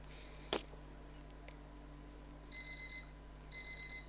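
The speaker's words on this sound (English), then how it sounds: "my wacky watch blares an alarm" A wristwatch alarm sounds in two bursts of rapid high electronic beeps, each a run of about five pulses, with a short click before them and a quiet pause between.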